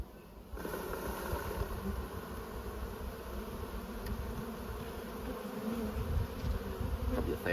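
Honey bees from a queenless hive, about a thousand of them gathered in a tub, buzz in a dense, continuous drone up close, steady and unbroken with no voices.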